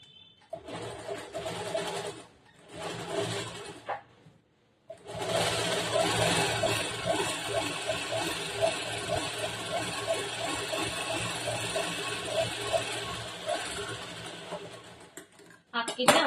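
A sewing machine runs in a long steady burst while stitching the lining of a churidar top, after two short starts, with someone talking over it.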